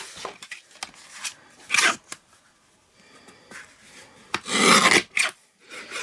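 A cardboard gift box is trimmed at close range in a few short, separate rasping bursts of cutting with quiet gaps between them, and no one speaks.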